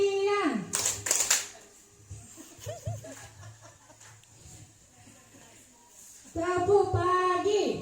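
Group clap game called tepuk siang, led in a teacher training session: a few quick bursts of hand clapping between stretches of a leader speaking, with voices and chanting over the claps.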